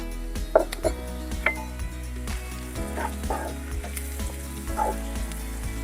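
Masala spices frying in a pan, a steady sizzle with sharp clinks and scrapes of a spoon against the pan at irregular intervals.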